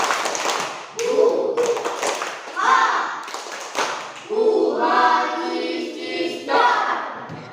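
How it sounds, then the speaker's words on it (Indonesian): Schoolchildren in an elementary classroom perform a rhythmic spirit clap, bursts of patterned clapping mixed with chanted voices, pausing and resuming in several short rounds, loud and close. "Tepuk semangat."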